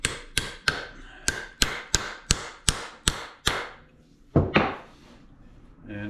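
Repeated sharp wooden knocks as an axe head is hammered down onto its handle, about nine evenly spaced blows followed by a pause and two heavier strikes, close and alone.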